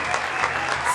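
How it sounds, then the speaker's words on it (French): A brief burst of audience clapping on a lively radio or stage show, dense and even from start to finish, loud and close, without talk over it. "applaudissements pour la Bobo"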